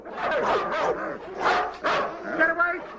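Several dogs bark and yip excitedly at close range in repeated overlapping bursts, with voices mixed in among the barking.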